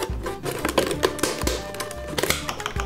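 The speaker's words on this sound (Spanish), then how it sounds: "Hacemos una incisión con el cuchillo" A knife scoring and slicing through a thin-walled plastic water bottle, producing close, irregular clicks, taps and crinkling scrapes in quick bursts with no talking.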